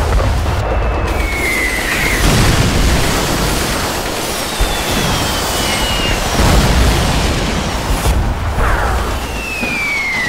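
Video game battle against Soviet forces with Panther tanks, rockets and Flak 41 guns firing a massed barrage: a loud, continuous wall of rumbling explosions and booms with whistling rockets streaking through, no talk.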